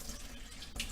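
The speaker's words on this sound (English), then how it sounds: "take it, run some water in it like this" Tap water runs into a can to rinse it out at a kitchen sink, a steady close hiss of running water with a brighter splash near the end.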